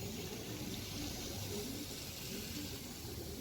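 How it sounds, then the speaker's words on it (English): A fine, steady spray of plain water hisses gently and evenly onto a DIY seedling tray made from waste thermocol, keeping the growing media moist. "Either you spray like this or give water very gently with your hands"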